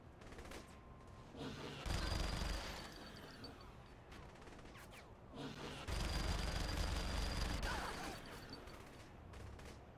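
Gunfire rattles through a Saints Row: The Third gameplay scene, with two loud bursts of rapid automatic shots and scattered single cracks in between, close and dense against continuous game noise.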